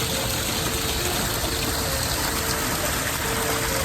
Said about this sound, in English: As you see behind me, the beautiful waterfalls.